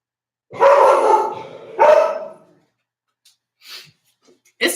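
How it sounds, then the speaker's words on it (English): A dog barking at the door gives two loud, close barks in quick succession, followed by quieter snuffles and a short bark at the end. "I can tell when she's barking at the door"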